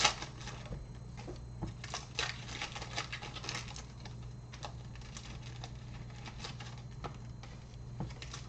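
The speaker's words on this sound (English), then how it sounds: "Is it raining? Yeah." Light rain pattering steadily outdoors, a soft, continuous texture of scattered drops with a low background hum and no talking.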